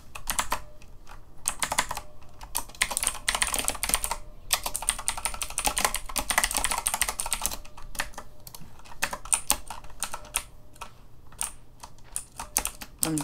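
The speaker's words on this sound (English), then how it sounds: "I'm typing to my friend on Discord" Rapid computer keyboard typing runs in steady bursts with short pauses, close and clear, with no voices over it.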